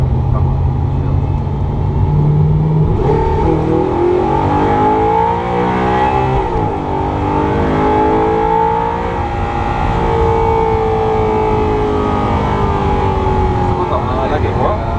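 An Audi R8 engine pulls hard from inside the car, its deep, loud roar sweeping upward through the revs and then settling into a steady drone, with people talking over it.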